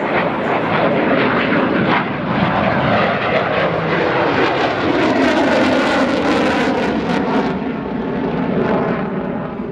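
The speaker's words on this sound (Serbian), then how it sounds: "An-26 je upravo sleteo, a preko njega preleće avion MiG-29." A MiG-29 fighter jet roars low over an airfield at an air show open day, a loud continuous broadband jet roar that swells and shifts in pitch as it passes close overhead.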